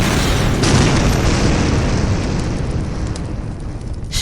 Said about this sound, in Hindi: जोरदार धमाका हुआ।